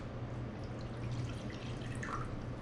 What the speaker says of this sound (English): Always put some water in the pan.